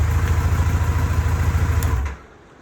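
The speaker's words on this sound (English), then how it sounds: "the tick is very consistent with the engine." A motorcycle engine idles close by with a steady, consistent ticking in its rhythmic low throb, then cuts away abruptly near the end, leaving only faint background.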